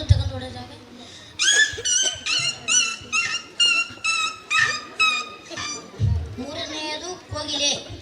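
A child at a school talent competition vocally imitates a puppy whimpering after being struck by a stone, giving a run of about ten high, quavering yelps in steady rhythm, close and loud, with brief talk before and after.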